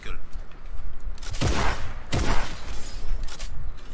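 Gunfire in the Fortnite battle royale game, with two loud bursts of rapid shots around the middle and lighter scattered shots after, over steady background noise with faint speech beneath.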